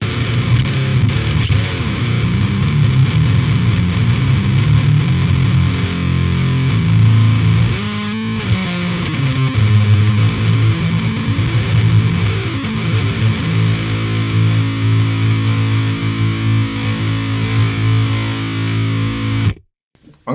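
Chugging electric guitar driven through an Otto Audio Blown Out Wall distortion with the input pegged, a dense, saturated roar of heavy palm-muted riffs that plays continuously for about twenty seconds before stopping abruptly.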